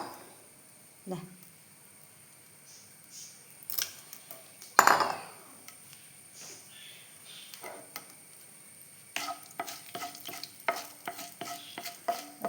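Rice and dried red chillies fry in a pan, quiet sizzling broken by sharp pops and crackles, with a spoon stirring and scraping against the pan while someone talks over it.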